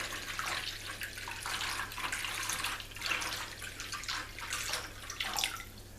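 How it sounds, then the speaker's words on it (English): Water pours into an Aerogarden indoor seed-starting reservoir in a continuous, soft splashing stream with slight surges, close but fairly quiet, with no talking. "So I'm just going to pour this water in there until it's all the way to that line."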